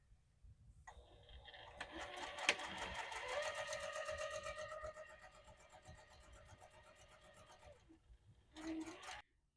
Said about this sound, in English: then top stitch the bottom